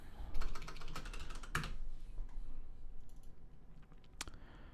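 Computer keyboard keys clatter in quick bursts as a new folder name is typed while importing an EAGLE project into KiCad, close and fairly loud, then sparser clicks fading out.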